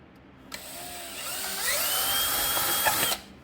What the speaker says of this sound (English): I'm going to drill matching holes in the plastic so we can bolt the thing down.